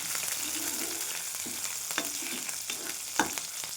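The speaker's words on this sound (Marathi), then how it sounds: "परतून घेते तेलामध्ये." Finely cut green chillies with curry leaves sizzle in hot oil in a pan, a steady crackling hiss with occasional sharper scrapes and clicks of a spoon stirring, close and continuous.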